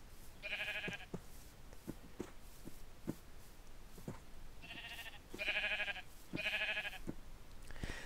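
Blocky Minecraft sheep bleat several times in short nasal cries, faint and spaced apart, over soft footsteps and quiet game ambience.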